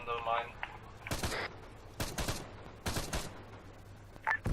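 Gunfire aimed at a mine in the Arma 3 military game, several sharp loud bursts spaced a second apart over a low engine hum, with brief radio-style talk at the start.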